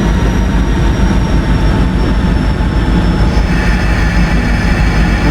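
A Santa Fe Express train gathers speed across the Sonoran Desert in a train simulator game. It makes a loud, steady, close rumble of engine and wheels that holds unbroken throughout.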